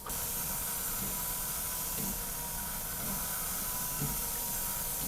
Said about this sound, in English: we have a small setup here that we can use to spray coat different substrates